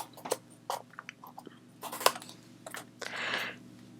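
Close, quiet snips and crisp paper rustles come as a strip is cut from a recycled Christmas card, in irregular short bursts with a longer scraping pass at the end.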